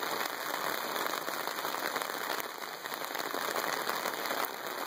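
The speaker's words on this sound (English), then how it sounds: "the rain is coming down on a slope and it ripples here" Steady rain pours onto a sloped road surface where water runs in rippling sheets, a dense, loud, continuous hiss with no let-up.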